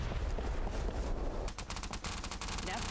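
Gunfire in the video game SOCOM 3: a dense rumbling stretch gives way to a rapid burst of sharp repeated shots, loud and close, with a voice faintly present.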